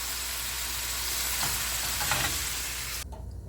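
Beef browning for stroganoff sizzles loudly and continuously in a frying pan, with a couple of turning scrapes before the sizzle drops off abruptly near the end.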